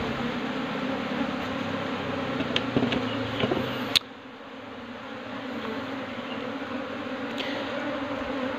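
Honey bees buzzing steadily while a hive is moved into a new box, heard as a close, dense hum that runs through the whole stretch, with a faint click partway and the swarm continuing without talk.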